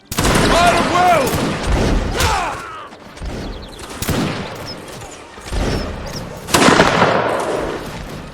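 Massed musket volleys crack out in a Napoleonic Wars video game. Several loud, ragged bursts of gunfire arrive over a few seconds, with a player's voice talking between and over the shots.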